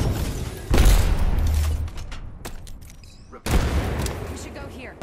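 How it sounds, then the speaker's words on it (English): Enemy gunfire in the Apex Legends battle royale game, a loud burst of shots up close followed by a quieter tail and a second loud volley. "The enemies are shooting at me."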